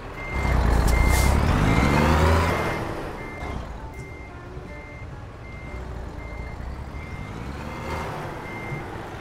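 An in-game truck in American Truck Simulator backs into a parking spot, its reversing alarm beeping in a steady repeating rhythm over a loud diesel engine rumble that eases off partway through.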